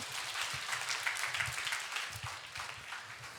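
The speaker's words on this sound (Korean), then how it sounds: "다시 한번 하나님께 영광의 박수를 드리도록 하겠습니다." Applause in a church congregation after a mission report, a steady wash of many hands clapping at moderate volume for a few seconds with no talking over it.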